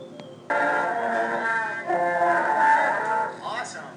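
A school band sustains its final held chord after a brief pickup, swelling slightly before the tones fade out near the end.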